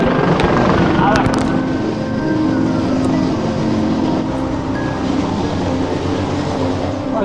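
Firefighting helicopter approaching over a large wildfire in France, a steady broad rotor and turbine roar filling the scene, loud and continuous, with people talking nearby.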